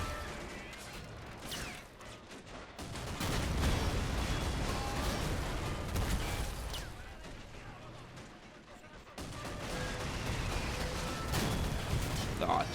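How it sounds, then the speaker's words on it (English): Artillery and gunfire in Men of War during an Italian fortress defense under siege, with Sherman tanks and 20mm guns nearby: a dense, continuous barrage of booms and shots rumbling throughout, with someone talking over it. "Artillery is working down the attackers."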